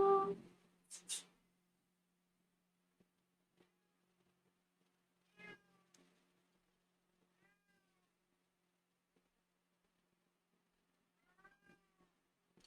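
A domestic cat meows close by in a quiet room, with a couple of strong cries at the start, then softer, scattered meows spread across the stretch with long silent gaps between them.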